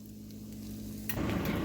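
Pumpkin pancake batter drops from a ladle into a hot pan and bursts into a loud sizzle partway through, following a quieter hiss of the heated pan.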